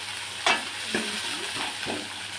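Boiled potatoes go into a frying pan with turmeric, ginger-garlic paste and oil, followed by a few soft scrapes and knocks of a spoon stirring over a quiet, steady sizzle.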